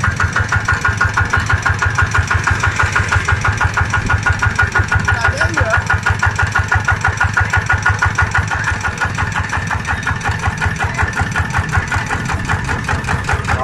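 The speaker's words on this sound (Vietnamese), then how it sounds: "Máy nổ rất là đậm nha." A Kubota RK125 farm engine runs steadily and loudly up close, its strong, even, rapid thump continuing without a break, and voices talk over the engine now and then.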